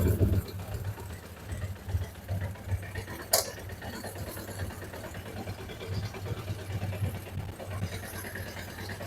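A Suzuki GSX600F motorcycle engine idles with a steady low throb that has uneven RPM, fairly faint and near, with a sharp click partway through and some background noise.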